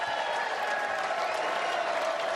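A baseball crowd at a Yankees–Pirates spring game gives a mock Bronx cheer for the Pirates' first hit, a loud, continuous roar of clapping and cheering with no break.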